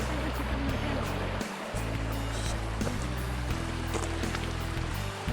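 Rushing water from a stream on the Moon Lake Trail at Fort Riley, Kansas, flows steadily in the foreground, a broad continuous wash with a low rumble underneath and no talking.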